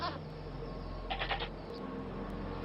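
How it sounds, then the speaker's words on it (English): A blue sheep, or bharal, on a Himalayan mountain slope gives a short, nasal bleat near the middle of the clip, over a steady low background hum. "This blue sheep, or the baral, usually graze on the mountain slopes."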